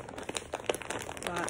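Plastic packaging crinkles close and steadily as a bundle of orange acrylic yarn is opened, a brief run of dense crackling rustles.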